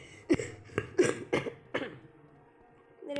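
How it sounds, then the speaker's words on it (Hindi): A person coughs in a series of four or five sharp, close bursts spaced about half a second apart, then falls quiet. "मेरे गले में खांसी आई हुई है।"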